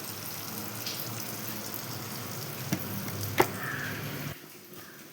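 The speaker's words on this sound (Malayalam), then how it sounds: "ഇതാ മീൻ ഫ്രൈ ഇവിടെ റെഡിയായി." Mackerel pieces frying in a pan: a steady, fairly close sizzle fills the stretch, with a couple of brief clinks, before the level drops suddenly near the end as the heat goes off.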